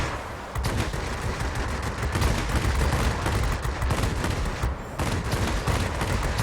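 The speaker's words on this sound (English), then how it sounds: "I do have the cannons on the 20mm cannons on a separate key, and then I still have my left mouse button controls all of the guns" Rapid, sustained machine-gun and 20mm cannon fire from a J4M multi-role fighter in World of Warplanes, a loud dense rattling burst that runs almost unbroken, with a short gap near the end.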